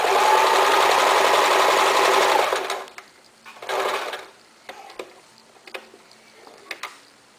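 Sewing machine stitching stretchy knit fabric for baby arm and leg warmers, a fast continuous whirring run up close that stops, followed by a short second burst and then scattered light clicks and taps.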